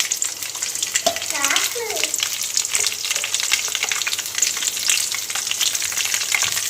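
Chana dal and green chilies fry in hot oil in a pan, giving a loud continuous crackling sizzle. Brief stirring and a short stretch of speech or voice sit underneath.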